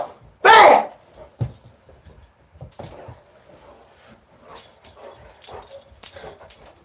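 An excited Doberman named Thor gives a loud yelp, then keeps whimpering and yipping in quick, uneven bursts nearby, with people speaking over the commotion.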